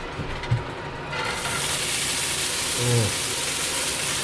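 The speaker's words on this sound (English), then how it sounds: "That's sizzle." A steady, broad hiss of frying rice and chicken in a large pan starts after a brief quiet moment and continues loudly, with a few low clunks at the start and near the end.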